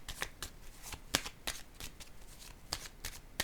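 Tarot cards being shuffled for a reading, a quick run of crisp riffling flicks and slaps repeating irregularly, close and fairly quiet with no talking.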